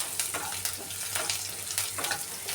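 Garlic sizzles and fries in a pan for Maharashtrian methi bhaji, a dense continuous crackle with bursts of spitting and occasional stirring, close and fairly loud without any talk.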